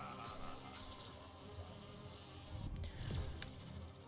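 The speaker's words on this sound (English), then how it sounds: "These bees are really interesting." Bees from the Skylanders game, Bumble Blast's attack, make a steady, faint insect buzz that hovers and swells slightly near the end, with no voices over it.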